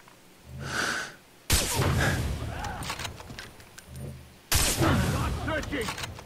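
Gunfire erupts in the video game Far Cry 3: two loud, abrupt bursts of shots with echoing tails, each followed by a few seconds of noisy rumble, alongside in-game voices and effects.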